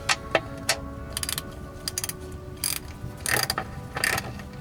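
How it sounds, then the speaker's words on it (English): A ratchet works on transmission valve body bolts of a 2006 Ford F-150, giving close, sharp clicking bursts in irregular short runs with brief pauses between strokes. "we have to go back with the longer ratchet"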